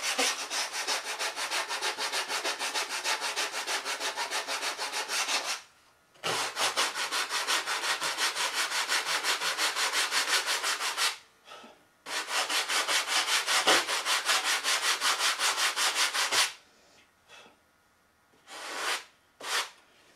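A sanding block rubbed by hand over wood, shaping a Bearcat model, gives long continuous rasping strokes in three extended runs broken by brief pauses, close and fairly loud with no talking.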